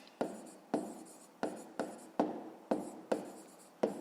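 Pen on paper writing out a 5th-grade maths solution: eight distinct scratchy strokes in an even rhythm, close and fairly quiet, with no talking.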